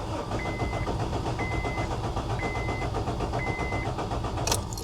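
An old Honda car that has sat unused for years, its engine cranking steadily without catching, a continuous close, loud mechanical churning that runs throughout with a brief higher burst near the end.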